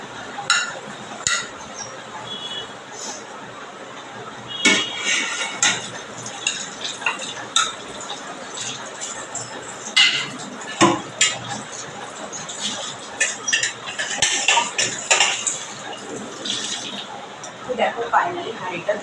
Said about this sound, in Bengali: দেখো ফাইনালি হাঁড়িটা ধুয়ে নিয়েছি